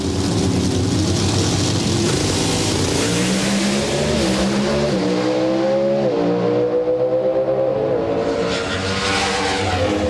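Pro Stock drag racing cars at the NHRA Gatornationals in Gainesville roar loud and continuous as they launch and accelerate down the strip, engine pitch climbing in stepped gear changes with no talk over them.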